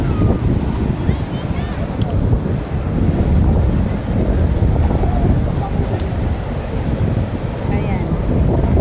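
Ocean surf at Sabang Beach rumbles and washes continuously beneath heavy wind buffeting the microphone, a dense, roaring outdoor wash of sound.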